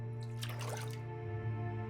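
Picking up a water bottle in The Long Dark video game makes a short liquid slosh and drip over a steady low game hum.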